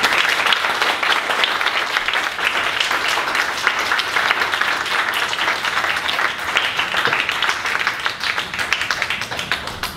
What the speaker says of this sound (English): Possibly the most applause I've ever had being on stage.